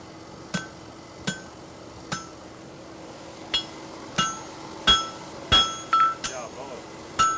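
A farrier's hammer strikes the heel of a horseshoe on an anvil, about a dozen sharp metallic rings at irregular intervals, some landing in quick pairs, close and clear against a quiet background.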